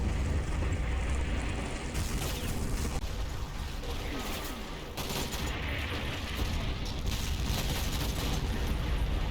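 Naval gunfire shelling in Combat Mission: Monte Cassino at Colle Sant'Angelo, a sustained rumble of explosions and crackling gunfire with several heavier blasts standing out, loud and dense, with some voice mixed in.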